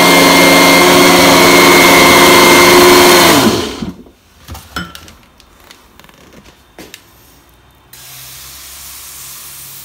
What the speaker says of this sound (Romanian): Toate să le introduc la blender.